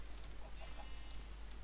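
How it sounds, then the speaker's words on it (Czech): Chickens cluck in the Minecraft video game, giving a few short, faint clucks over a steady low hum, with no voices. "My tady máme slepice, máme zrnka, jo."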